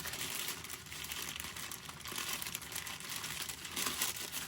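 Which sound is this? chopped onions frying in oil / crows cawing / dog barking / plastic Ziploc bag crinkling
plastic Ziploc bag crinkling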